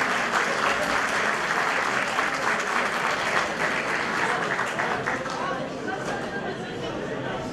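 Dense, steady applause from a crowd gathered at a KAS-DER Zeytinburnu branch event welcomes Fatma Betül Sayan Kaya, continuing loudly throughout with chatter mixed in and easing slightly toward the end.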